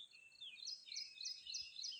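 Bright, high bird chirps repeat in a quick rhythmic series in a forest near Varasgaon waterfall, fairly close and clear over a quiet, faint outdoor background.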